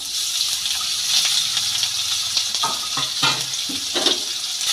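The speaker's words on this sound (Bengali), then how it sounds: "তেলের মধ্যে আলুগুলো দিয়ে খুব ভালো করে আমি ভেজে নেবো" Potatoes and onion fry in oil with a steady close sizzle, while spoon scrapes and stirring clatter come through in bursts, especially in the second half. No one speaks.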